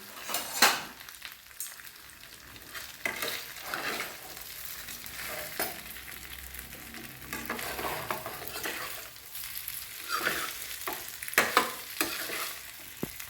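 Oats muthiya pieces are stirred in a hot pan, sizzling continuously while a spoon scrapes and clinks against the metal in irregular bursts, close and moderately loud with no talk.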